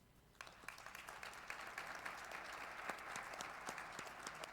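Audience applause at a cybersecurity conference round table of women experts, dense steady clapping building after a quiet start and holding evenly, heard at a moderate distance in a hall.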